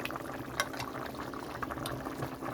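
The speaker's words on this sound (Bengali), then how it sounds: "এখানে মাছটা দিয়ে দিচ্ছি" Fried katla fish pieces go into a simmering curry with elephant-foot yam, brinjal and Malabar spinach stems, the pot bubbling steadily up close with a few soft splashes as the fish lands.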